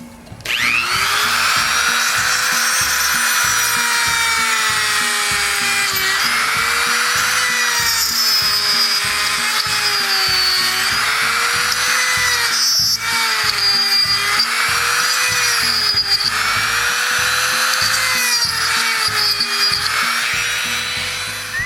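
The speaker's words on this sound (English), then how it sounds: "I'm going to take my Dremel tool and I'm going to grind those little tabs out that are in there" A Dremel rotary tool grinds small tabs out of a plastic fuel pump case for a Kohler aftermarket EFI high-pressure pump, a steady close, loud high-pitched whine that wavers in pitch as the bit bites and eases off.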